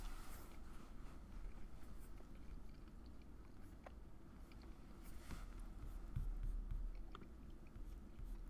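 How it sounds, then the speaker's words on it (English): Chewing sounds from someone eating close to an always-on microphone during a livestream, soft and steady throughout with faint crunchy bites over low background hum and no speech. "guys, the chewing sound."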